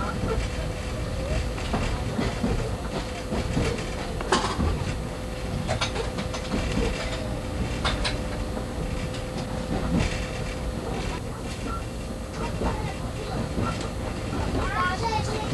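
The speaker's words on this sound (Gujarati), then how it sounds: "બોરીવલી સ્ટેશન પસાર થઈ ગયું છે." A Mumbai suburban train runs past Borivali station, giving a loud, close, continuous rumble with steady rattling clicks and metallic clatter throughout.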